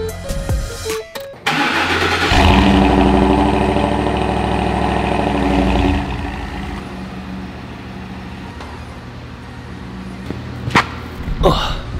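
A truck engine cranks and catches, revving loudly for a few seconds before settling into a steadier, quieter running rumble as the vehicle heads to the shop.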